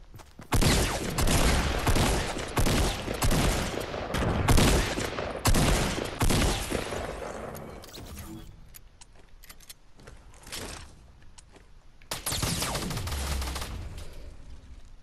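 Rapid gunfire in the Fortnite battle royale game, a dense fusillade of shots for several seconds, then a quieter gap of scattered sounds before another loud burst of fire, close and without talk.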